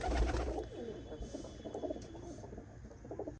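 Purebred pigeons kept for sale at a large pigeon sale in Tarn Taran, Punjab, give soft, throaty rolling coos close by, a steady murmuring series that continues throughout.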